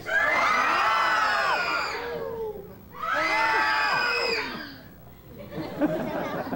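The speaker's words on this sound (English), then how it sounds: "need everybody in the audience to scream in total brainless panic" An audience screams loudly in two long shrieking bursts, then settles into scattered murmuring and chatter.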